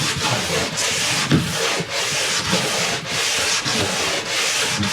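Steady rubbing and brushing over a ski or snowboard base as the last excess wax is worked off after scraping, continuous and close with small rhythmic surges, no talk.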